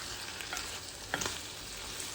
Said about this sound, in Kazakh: Кішкене ғана қайнатамыз оны.